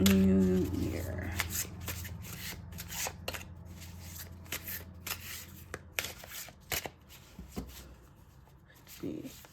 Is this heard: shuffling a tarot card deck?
yes